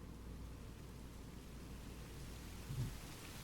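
Steady rain falls across a scene in the video game Tsukihime Remake, a constant hiss with a low rumble underneath and a brief swell near the end, with no voices.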